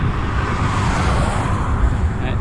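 Road traffic rumbles over a bridge near the River Wye, a continuous loud wash of passing cars with wind mixed in.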